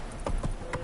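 Two or three quick hoof strikes from Roach, the horse in Witcher 3, breaking into a gallop, close and fairly loud against a faint game background.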